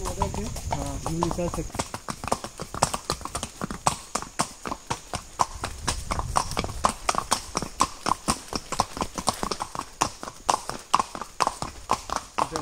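Horse hooves clip-clop steadily on a trail during a ride in Matheran, a regular rhythmic trot of sharp close taps lasting throughout, with people talking over it.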